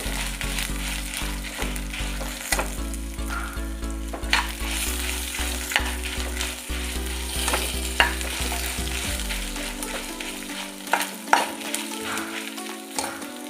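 Ingredients for a horse gram curry, including dried red chillies, frying in a pan. Continuous sizzling runs under repeated rhythmic scraping and tapping of a stirring spoon, loud and close, with the low rumble dropping away near the end.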